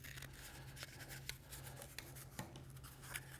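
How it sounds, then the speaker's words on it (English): Scissors snip into the corners of a paper seed-starting container, faint short cuts and paper rustles scattered over a low steady hum. "using scissors, cut just a ½ inch or so into each one of those corners."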